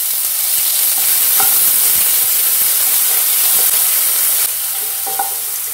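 Chopped onion fries with chana dal in a hot pan for vendakka thoran (okra stir-fry), producing a loud, continuous close sizzle broken by a few faint stirring scrapes.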